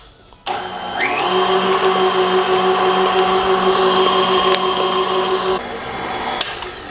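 An electric mixer beating cream cheese frosting, starting with a click and whirring at a steady pitch close by for about five seconds before switching off, with no talk over it.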